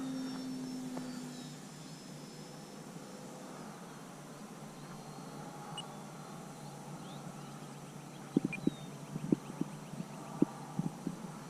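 A Durafly Ugly Stick V2 radio-controlled plane flies overhead, a faint thin motor whine drifting in pitch as it passes at a distance, with a few sharp clicks near the end.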